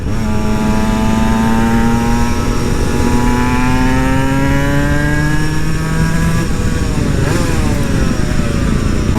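An Aprilia SX-125 two-stroke supermoto motorcycle being ridden, its buzzy engine pitch climbing steadily through a gear, then dropping abruptly at a shift before rising again, loud and close throughout.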